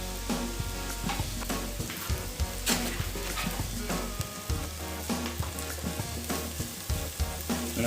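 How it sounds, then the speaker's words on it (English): Green pepper and onion fry in a pan, a loud, close, continuous sizzle with crackles and occasional stirring scrapes, heard alone with no talking. "I'm just going to allow the green pepper and onion to brown for a minute or so"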